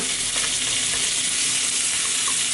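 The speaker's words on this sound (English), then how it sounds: "and stir fry until the pork meat normal pink." Pork meat sizzles and fries loudly in a hot pan while being stir-fried, a dense steady hiss with faint clinks from stirring, heard close up with no talking.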